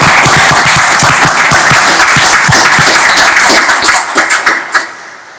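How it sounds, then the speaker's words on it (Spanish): Loud, close applause from the audience at a Supreme Court swearing-in ceremony for new lawyers, dense clapping with distinct hand strikes that thins out and fades to quiet over the final second. "Aplaudamos este logro."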